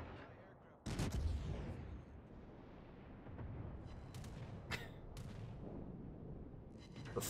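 Anti-aircraft guns firing aboard a warship in the naval battle game World of Warships, a sudden loud burst followed by a sustained rumbling barrage with scattered sharper reports.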